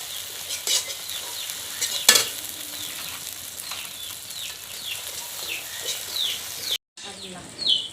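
Dried red chili paste sizzles as it is added to fried cumin in a pan for a village-style chicken curry, with steady frying hiss and repeated scraping stirs throughout, briefly cut off near the end.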